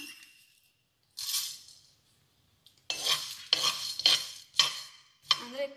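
Coriander seeds dry-roasting in a hot pan, with a few bursts of stirring and scraping that rattle the seeds against the metal, separated by short quiet gaps.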